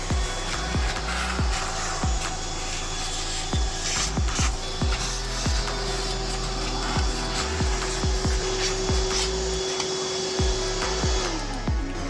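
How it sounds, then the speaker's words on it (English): A vacuum cleaner runs continuously with a steady whine while sucking crud out of a lawnmower transaxle, with repeated scraping and rubbing strokes of the nozzle against metal, close and loud. "First things first, we're going to vacuum all the crud out of it"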